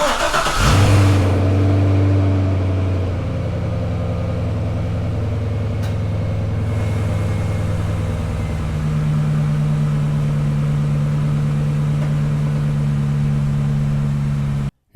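A stock naturally aspirated V8 in a Corvette fires up with a sharp rev, then settles into a deep, steady idle that rumbles on, loud and close, until it cuts off abruptly.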